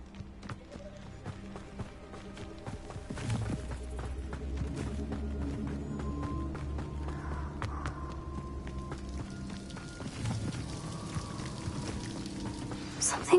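A waterfall in a video game rushes with a steady, rain-like wash that runs the whole time, blended with soft background music and a voice speaking now and then.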